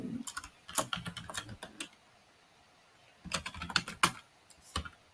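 Typing on a computer keyboard while entering agency details into a software form: two bursts of quick, irregular key clicks, close and crisp, separated by a pause, with no talking.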